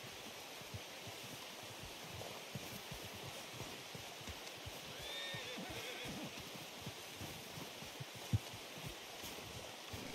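A horse whinnies faintly within the steady outdoor ambience of Red Dead Redemption 2, a soft, brief call set against a constant wash of wind- or water-like background noise.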